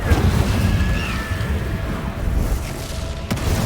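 Incendio fire spell cast in Hogwarts Legacy, a short burst of dense rumbling crackle and whoosh filling the clip, loud and close, with a sharp hit near the end.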